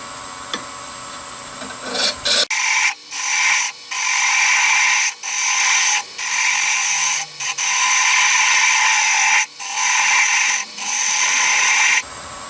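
A half-inch woodturning gouge cuts into a spinning wooden blank on a lathe while making a darning egg, giving a loud, steady scraping rasp broken by brief pauses as the tool lifts off, close and alone.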